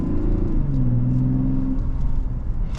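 A 2025 Mazda CX-90 SUV with an inline-six engine pulls away, its engine note rising in pitch then holding a steady harmonic drone over broad road rumble, loud and close inside the cabin.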